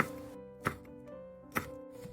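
Cucumber and chili pepper are sliced with a knife. Two distinct knife thunks land on a board about a second apart over a faint tonal background.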